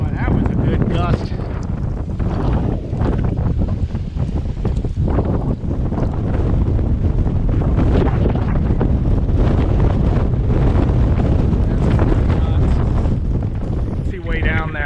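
Strong wind gusts roar across the microphone aboard a sailboat lying at anchor near a major city, a loud, continuous buffeting rush with churning low rumble throughout.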